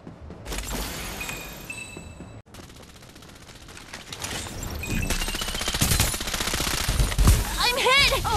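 Rapid automatic gunfire and bursts of shots in the Farlight 84 battle royale shooter, loud and dense, with game voice lines and effects layered over the continuous firing.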